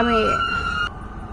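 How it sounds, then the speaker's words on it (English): An emergency vehicle siren wails close by, its steady high tone holding then cutting off abruptly, over a noisy background with a voice briefly audible at the start. "I'm sorry if you hear those sirens next to me."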